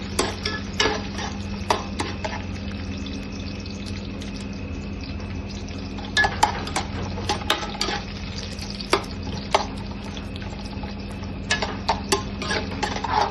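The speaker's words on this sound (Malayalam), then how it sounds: "തേങ്ങ കുറച്ച് കൊത്തിയരിഞ്ഞ തേങ്ങ ഇട്ടിട്ടുണ്ട്. അതൊന്ന് ചെറുതായിട്ടൊന്ന് മൂപ്പിച്ചെടുക്കാം." Chopped coconut roasting in a pan for beef masala, a soft steady sizzle broken by sharp ladle clinks and stirring scrapes, close by and without talk.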